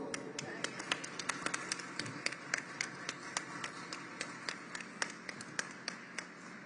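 Scattered audience clapping at a climate event hall as people come onto the stage, sparse sharp individual claps ringing out irregularly over a quiet room, fairly distant, with murmured talk underneath.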